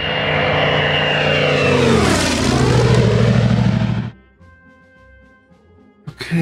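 A propeller aircraft engine from the WW2 strategy game Order of Battle drones loudly for about four seconds, its pitch sweeping down as it passes, then cuts off abruptly, leaving near silence and a faint hum.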